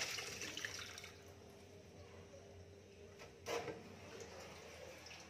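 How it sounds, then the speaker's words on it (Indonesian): Water from soaking aloe vera being poured out of a container, a soft continuous splashing pour with a brief louder gush near the end, quiet and close. "proses selanjutnya, ini kita buang airnya"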